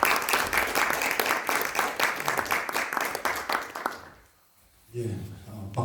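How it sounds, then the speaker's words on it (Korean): Dense audience applause welcomes a guest lecturer at an invited talk, loud and steady for about four seconds, then fading to near silence before a voice begins speaking. "예, 박수 부탁드리겠습니다."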